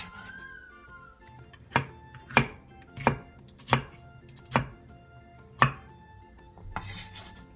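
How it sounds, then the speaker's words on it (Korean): A knife cuts onion, carrot and paprika into large bite-sized chunks on a cutting board, making seven evenly spaced, sharp, close chops over a quiet kitchen background. "양파 2분의 1개, 당근 3분의 1개, 파프리카 2분의 1개를 한 입에 먹기 좋은 크기로 큼직하게 잘라주세요."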